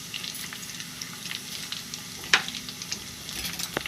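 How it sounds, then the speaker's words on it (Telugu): Garlic cloves fry in hot oil for tomato chutney, a soft continuous sizzle with small crackles and a single louder stirring clink partway through. "ఇవి కొంచెం వేగాలండి వెల్లుల్లిపాయలు"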